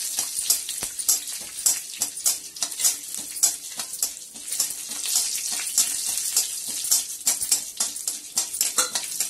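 Mustard seeds, fenugreek and cumin sizzle in two spoons of hot oil, with loud, close, irregular crackles and pops over a steady frying hiss.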